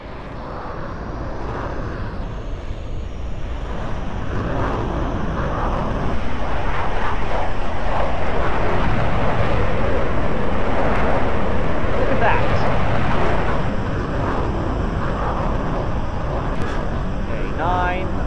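An aircraft in the Roblox flight game Aeronautica lines up on the runway and takes off, a steady engine roar that swells in the middle and eases off later, with a voice talking over it.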